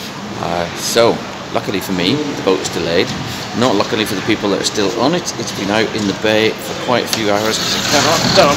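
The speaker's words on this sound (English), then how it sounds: "Excuse the noise, it's because the doors here are being blown open." Gale-force wind at Holyhead ferry port, blowing the terminal doors open, makes a steady rushing roar beneath a person talking close by throughout.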